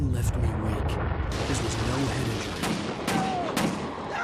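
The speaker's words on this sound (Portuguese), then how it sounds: "tiros" Sharp gunfire bursts crack repeatedly over a dense, noisy Alan Wake game soundscape, with a voice talking faintly underneath.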